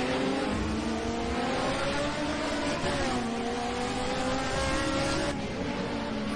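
A turbocharged DRM race car engine revs hard and steady at Mugello in Assetto Corsa, a loud, continuous roar with rising and falling pitch sweeps that fills the whole stretch without pause.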